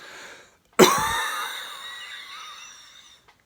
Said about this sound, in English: all you have to do is cough and keep an exhale going with your cough